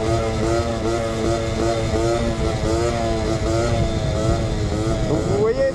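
A pocket bike engine revs steadily and loudly during a wheelie, with a buzzing, wavering pitch that rises and falls across the run, and a voice talks over it.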